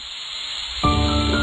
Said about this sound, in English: Hit the spray nozzle.